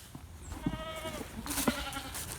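Goats bleat on a small farm near a pasture and pen, two or three nasal, wavering calls standing out over low outdoor background noise.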